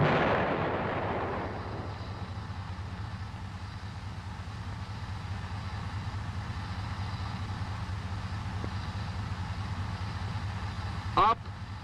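An M551 Sheridan armored reconnaissance vehicle fires its tank gun: a heavy blast opens and fades into a steady low engine rumble, with one brief sharp crack near the end.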